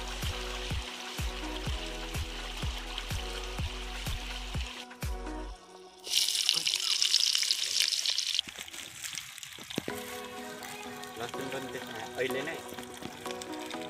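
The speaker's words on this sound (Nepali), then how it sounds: "अब हाम्रो तरकारी पाकिरहेको छ गाइज हैन" Vegetable curry with onion and garlic cooks in a pan outdoors at a picnic, giving a steady sizzle and frying hiss, with water trickling and clattering at times and a voice talking over part of it.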